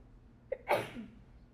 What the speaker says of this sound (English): Those were sneezes, not questions.